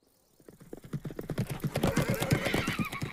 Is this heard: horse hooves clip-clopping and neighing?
yes